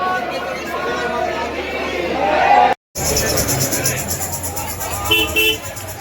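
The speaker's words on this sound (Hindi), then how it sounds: "बहुत सारी भीड़ है यहाँ पर" Crowd outside the Radha Raman temple in Vrindavan: a dense babble of many voices with occasional car horn toots, steady and close throughout, broken by one very short silent gap.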